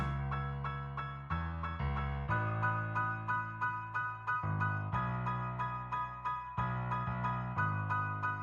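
A Flex Close Grand piano preset plays a pattern that leans hard on deep bass notes, with steady repeated chords above and the low register changing every bar or so.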